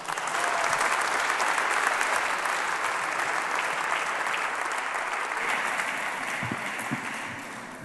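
An audience at the opening ceremony of the Congreso Futuro 2019 congress gives Senator Guido Girardi warm, sustained applause, a dense even clapping that slowly tapers off.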